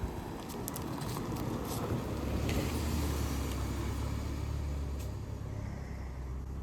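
A BMW car with a battery warning fault and worn tires approaches outdoors, its steady low engine and road rumble building slightly under strong wind buffeting the microphone, with no talk.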